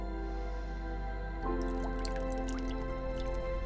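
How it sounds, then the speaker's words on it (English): Seawater sloshing and dripping as fish are scooped with a dip net from a net bunt into a partly filled 5-gallon bucket, close splashes and trickling drips over a steady mechanical hum, with no talking. "we fill a 5-gallon bucket partially with seawater, and then we use a dip net to scoop the fish out of the bunt into the bucket"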